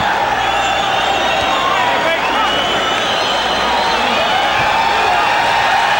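A boxing arena crowd roars and cheers continuously during a fight, a loud unbroken wash of many voices with a commentator talking over it.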